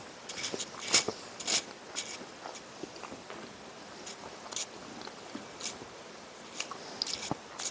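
French combat ration breakfast cereal being eaten, with close crunchy bites and chewing in irregular bursts, a few sharper crackles near the start, then quieter mastication.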